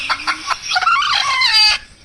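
A chicken clucks loudly and close, a few sharp clucks followed by a drawn-out squawking cackle, with no voices.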